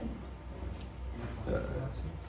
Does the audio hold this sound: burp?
yes